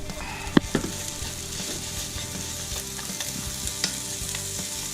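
Egg fried rice with crispy duck hisses and crackles over high heat as it is tossed, with a steady, close sizzle punctuated by a few sharp clanks of the utensil against the pan.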